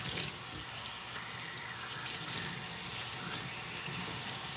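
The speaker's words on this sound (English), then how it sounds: "let me rinse my hair out" A tap pours a steady stream of water into a sink while hair is being rinsed, a close, continuous splashing rush with no talk over it.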